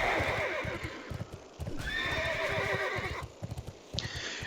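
Horse mount ridden in World of Warcraft, with steady clip-clop hoofbeats throughout and a loud neigh and whinny breaking in midway, close and clear with no talking.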